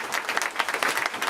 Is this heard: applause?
yes